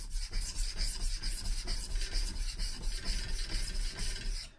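A knife blade is stroked back and forth on a natural whetstone with firm pressure, giving a close, rhythmic gritty rasp that repeats about every half second.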